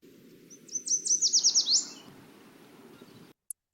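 A yellow warbler sings one quick, sweet phrase of rapid descending notes that accelerate and end in a brighter flourish, clear against a low steady background hum, followed by a single faint click.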